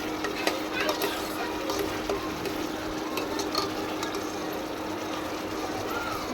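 Food sizzles steadily in a pan as ground spices are cooked and stirred, a continuous close frying hiss with light scraping throughout.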